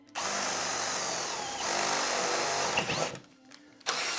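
Power drill chewing through a metal stud with a new 1/2 inch bit, a loud close continuous grinding whine for about three seconds, then tapering off with a brief final burst.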